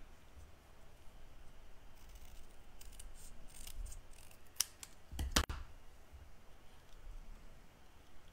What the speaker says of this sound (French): On va découper un petit peu autour.